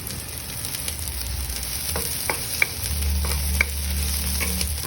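Tomatoes sizzle and fry in a hot pan, with a steady crackle under occasional scraping stirs and soft utensil clicks. The frying swells louder near the end.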